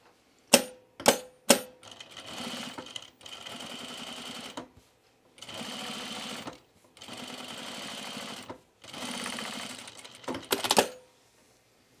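A home sewing machine stitches thick button-down shirt fabric in several sustained runs of whirring, separated by pauses and sharp clicks at the start and end.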